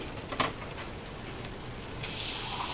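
Water runs briefly from a kitchen tap into a small dish of honey and sugar, a soft steady hiss of filling liquid that swells louder near the end, with no talking.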